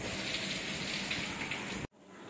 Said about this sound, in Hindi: अभी भी बारिश हो ही रहा है।